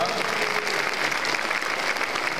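Steady crowd applause fills a rally hall at a Busan citizens' gathering held at a church, dense and continuous throughout, with a faint tonal whistle early on.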